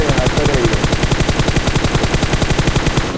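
Rapid automatic gunfire in a battle royale video game scrim, a loud continuous burst of evenly spaced shots running unbroken for about three seconds with no talk.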